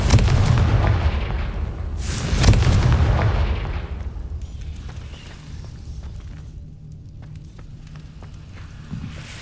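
A Confringo fire-spell blast from Hogwarts Legacy explodes in a loud booming burst, followed by a second sharp blast about two seconds later and a long rumbling fade into quieter ambience.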